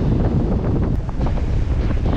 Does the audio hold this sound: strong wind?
yes